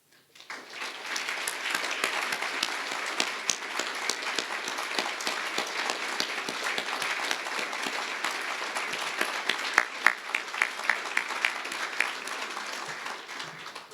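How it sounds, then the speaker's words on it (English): A banquet audience applauds honorees at an awards event, a steady wash of many clapping hands that starts abruptly and holds evenly for the whole stretch, without speech. "let's give them a round of applause"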